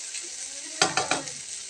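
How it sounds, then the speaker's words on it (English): Eggplant simmering in a pan over medium heat: steady broadband sizzle throughout, joined midway by a few sharp stirring scrapes in quick succession, close and moderately loud, no voices. "let's for it to simmer for a while and then we're gonna serve"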